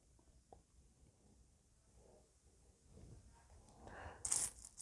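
Coins being handled and dropped, including a 1950 two-shilling coin and commemorative coins, faint soft clinks over a quiet background, ending in a brighter jingle near the end.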